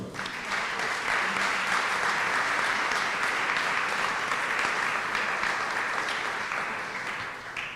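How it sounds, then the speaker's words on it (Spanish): Sustained audience applause at a Mexican health event on traditional midwives, steady dense clapping filling the whole stretch at fairly high level, easing slightly toward the end, with no voices standing out. "Pido un fuerte aplauso."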